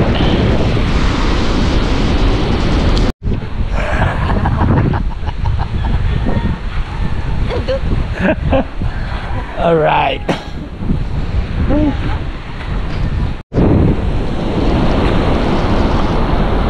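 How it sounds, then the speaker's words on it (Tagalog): Strong ocean surf pounds the shore during Typhoon Chiting, a loud continuous roar of crashing waves buffeted by wind noise on the microphone, with brief voices partway through. "Malakas pa rin ang alon, lumakas na naman"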